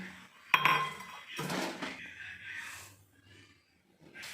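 A metal frying pan is set down on a gas stove for making rava laddu, a sharp clank followed by softer scraping and shuffling in a quiet kitchen.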